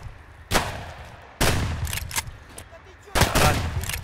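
Three loud gunshot blasts in the video game Escape From Tarkov, spaced irregularly, each with a booming low tail, over faint background noise.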